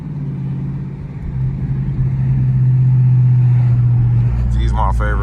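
A 2019 Dodge Charger Scat Pack engine droning steadily while driving, a loud low hum that swells as the car accelerates, with a voice coming in near the end.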